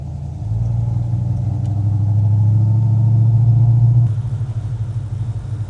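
Low exhaust rumble from a 1969 Dodge Charger fills the cabin, swelling then easing, with a steady rush of wind past the window on a wet road; no voices.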